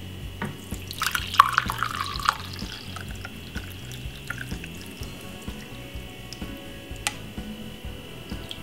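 A green tea, honey and ginger drink is strained through a strainer, giving a quiet trickle with faint drips, most active early, over soft kitchen background noise.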